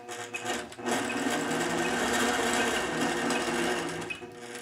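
A sewing machine stitches through a quilt along a template, running in a steady, loud, close whir for several seconds before slowing toward a stop.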